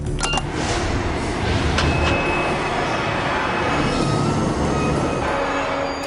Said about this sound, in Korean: 다행히 지하철이 멈춰섭니다.